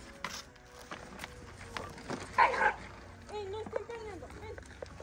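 Several dogs squabble with sharp yips, whimpers and short growling barks at a family home, rising to a brief loud flurry midway, while people talk nearby.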